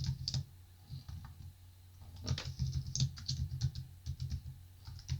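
Irregular bursts of key clicks as C++ code is typed on a computer keyboard, close and fairly quiet, with short pauses between runs of keystrokes and a low steady hum underneath.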